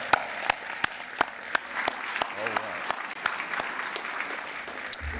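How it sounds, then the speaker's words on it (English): Audience applause fills a college commencement ceremony in a fine arts center, a steady wash of many hands clapping with a few sharper nearby claps cutting through, moderately loud and sustained throughout. "let's give them a round of applause"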